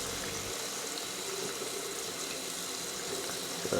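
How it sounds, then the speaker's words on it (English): A hot water tap runs for a shower in a village bathroom, giving a steady, even hiss of flowing water at moderate volume with a faint clunk at the end. "turn on hot water."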